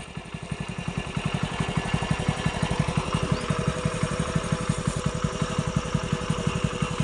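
A motorcycle engine idles close by with a steady, rapid low thumping pulse that runs evenly throughout.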